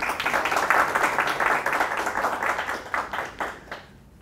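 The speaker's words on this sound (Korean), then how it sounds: "전영덕 교수님을 뜨거운 박수로 환영해 주시기 바랍니다" A lecture-hall audience at a book concert claps warmly to welcome a professor, a dense round of many hands that stays strong and then thins into scattered claps as it fades out near the end.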